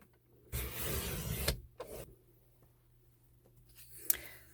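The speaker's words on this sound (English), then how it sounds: "now I'm going to run my cutting blade from corner to corner" A paper trimmer blade sliding diagonally across a sheet of cardstock, heard as a close, quiet scraping swipe of about a second, followed by a shorter second scrape and a small click, with near silence between.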